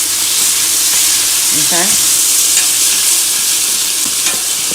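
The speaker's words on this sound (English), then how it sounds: "I'm gonna add in my tomatoes." Tomatoes going into a hot pan for a fish bouillon, with a steady loud sizzle and frying hiss running throughout; a voice says a brief word near the start.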